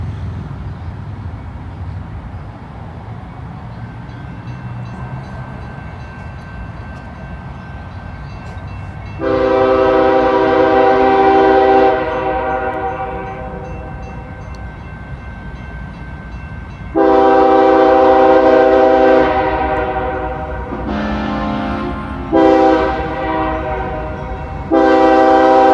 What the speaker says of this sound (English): We got us a northbound coming now.